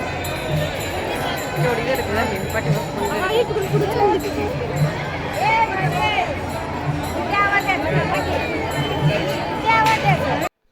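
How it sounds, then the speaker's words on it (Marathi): A large crowd of pilgrims queues for darshan at a palkhi procession of Sant Tukaram Maharaj in Akluj, making a dense, steady hubbub of many voices and footsteps close by, with people talking throughout. "दर्शनासाठी एवढी प्रचंड गर्दी होती"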